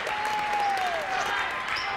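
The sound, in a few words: basketball game crowd cheering and applauding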